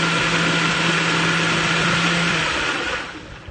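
A kitchen blender mixes a thick chocolate, banana and tofu pudding at moderate speed, giving a close, steady motor whir that holds for about three seconds, then spins down and fades.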